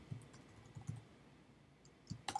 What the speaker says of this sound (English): Let's continue typing out the rest of the stuff.